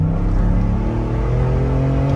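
2021 Ford F150 with a JB4 tune accelerating hard through the gears, a loud continuous engine roar with strong low harmonics, heard from inside with no talking.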